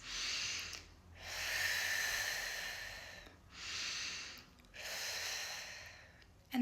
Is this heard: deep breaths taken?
yes